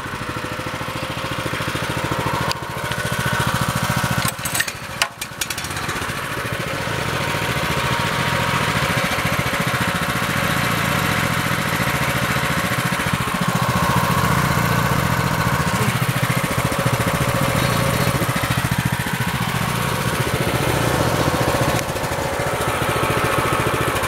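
Engines started up and left idling, set a little low, running steadily and loud with no talk over them after a brief burst of starting noise near the beginning.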